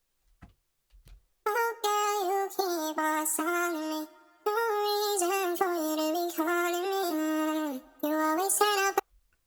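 A pitched-up R&B vocal sample sings a bright, close melodic line in sustained phrases, broken by a couple of short gaps, with clean harmonic tone and no talking over it.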